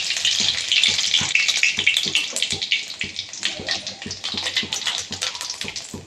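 Bay leaf and cumin seeds sizzling loudly in freshly heated oil in a pan, a bright crackling hiss with sputtering pops, strongest early and settling slightly, with faint background noise.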